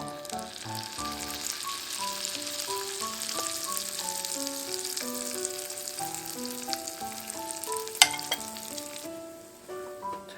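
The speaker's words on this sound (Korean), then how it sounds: "저는 버터를 한 조각 넣어서 구울게요" Pancake batter fries in melted butter in a pan, giving a steady soft sizzle beneath louder melodic background music, with one sharp clink near the end.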